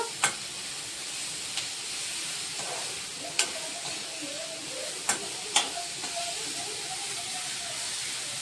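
Onions softening in a hot pan give a soft, steady sizzle and hiss, with a few sharp clinks of a spoon against the pan.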